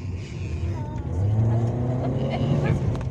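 An automatic car's engine revs up as the transmission kicks down under a pressed accelerator, a steady rising drone that grows louder midway, with someone talking over it.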